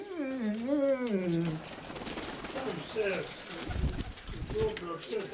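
Pigeons coo softly in an open pigeon loft on a second floor, faint cooing mixed with rustling while a person speaks over them.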